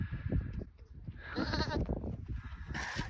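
Lamb bleating on a farm, a few short bleats rising over a busy, rustling barn background, fairly close and clear between bursts of handling noise.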